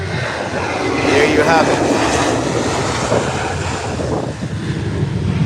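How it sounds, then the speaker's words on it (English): An American airliner rolls down the runway for takeoff, its engines a loud, broad roar heard from outside with heavy wind buffeting the microphone, while someone speaks briefly over it. "An American airline is rolling down the runway."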